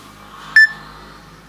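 A No.1 S3 smartwatch sounds its SMS or alert notification: a single short, bright electronic chime standing alone over a quiet background.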